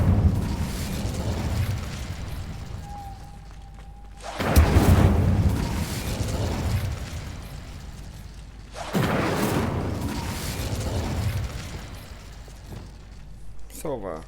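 Whooshing fiery bursts of an Incendio fire spell in the video game Hogwarts Legacy, with two loud swelling blasts a few seconds apart over a rumbling background of game sound and speech.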